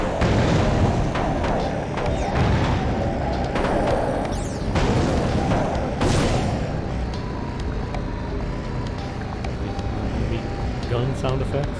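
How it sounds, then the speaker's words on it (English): Weapon fire from the Ratchet: Deadlocked video game cracks out in sharp bursts over a busy, rumbling game mix, with bangs and booms crowding the first half and lighter shots continuing after. "Gun sound effects. They're kind of shit themselves."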